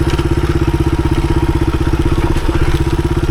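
A 1983 Honda XR200R dirt bike engine pulls hard in first gear on a hard enduro trail, its loud, close single-cylinder exhaust firing in a rapid, steady pulsing beat with some clatter throughout.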